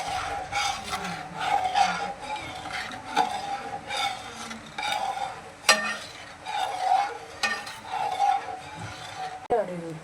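Kerala-style lentil payasam with coconut milk stirred in a pan, with repeated close scraping and rubbing strokes over a faint sizzle while a person talks throughout.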